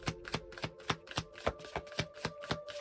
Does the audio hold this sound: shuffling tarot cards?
yes